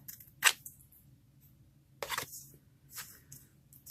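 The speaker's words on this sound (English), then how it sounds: "Okay, so I'm just trimming down just like this. I see a little corner that I want to nip." Paper is trimmed for a junk journal tag with three short, crisp cutting snips spaced about a second apart. They are quiet and close, with near silence between them.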